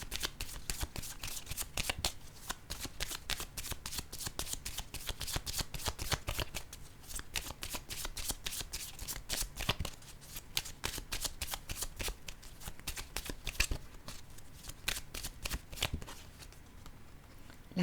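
Tarot cards being shuffled by hand in a steady, rapid flutter of crisp riffles and slaps, close and continuous, with no talking over it.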